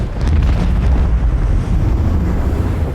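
Macro cannons on a starship open fire in Warhammer 40k: Rogue Trader, a sustained, heavy low rumble of booming blasts that stays loud and continuous with no talk.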